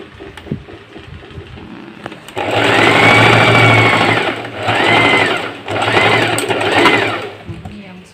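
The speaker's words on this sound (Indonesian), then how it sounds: "Saya gunakan mesin nih untuk penanda dia itu guna tu tapak saya sini." Sewing machine stitching fabric while sewing a traditional Kadazandusun garment, running in three close bursts of steady rapid whirring with short pauses between, loud and near, a voice talking over it.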